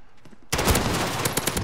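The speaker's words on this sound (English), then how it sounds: "Got a sentry gun on station." A sentry gun opening fire in Call of Duty Modern Warfare, a sudden loud burst of rapid automatic gunfire that starts after a quieter moment and continues steadily.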